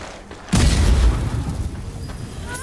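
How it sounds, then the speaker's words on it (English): A grenade detonates in the video game Strange Brigade, one loud, deep boom that bursts in suddenly and then rolls on as a long rumbling decay. "Grenade away."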